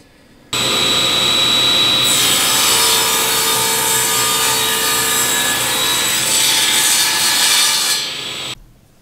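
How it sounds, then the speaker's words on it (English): A table saw cuts wood against the fence in a woodworking shop, building a walnut vanity. The blade's steady, loud whine rises as the board feeds through and holds for about six seconds, then cuts off abruptly. No one speaks. "That'll allow it to clear the table saw blade without actually like pinching or binding the piece of wood between the blade and the fence"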